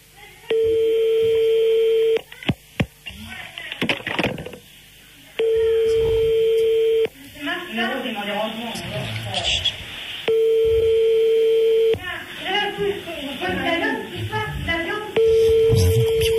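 Telephone dialing tones and a repeated busy signal on a French radio prank call, the steady beeps returning in several long bursts between stretches of talk and laughter.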